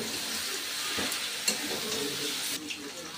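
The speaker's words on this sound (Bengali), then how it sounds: "এবার আমি আদা বাটা আর তার সাথে ধনেপাতা দিয়ে একসাথে ভালো করে বাঁধাকপিটাকে মিশিয়ে নিচ্ছি" Shredded cabbage is stirred with ginger paste and fresh coriander in a hot pan, making a continuous close hiss of frying with occasional soft scrapes of the spoon.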